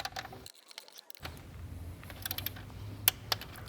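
A torque wrench tightens T30 bolts on the intake manifold of an MK7 VW GTI, making faint ratcheting and mechanical clicking, then a couple of sharp clicks near the end in a quiet workshop.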